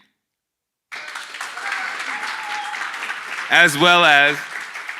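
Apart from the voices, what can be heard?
applause for the speakers at an online meetup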